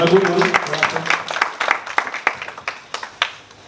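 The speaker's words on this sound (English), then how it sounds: "Let's give him a lot of applause." An audience at a poultry farming talk claps, starting briefly under a voice and then thinning into scattered individual claps that taper off over a few seconds.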